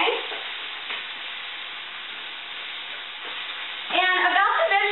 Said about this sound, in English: We might take a moment to stir up our vegetables. They're starting to brown.